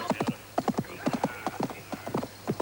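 Horses galloping in a film battle scene, their hooves beating a rapid, steady clip-clop rhythm up close and loud throughout.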